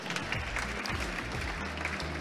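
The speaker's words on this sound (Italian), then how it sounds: "Un applauso." Audience applause at a live Italian podcast show, a dense continuous clatter of hands filling the room with low rumbling underneath, steady throughout.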